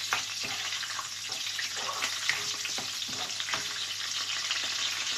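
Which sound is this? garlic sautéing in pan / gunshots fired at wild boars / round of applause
garlic sautéing in pan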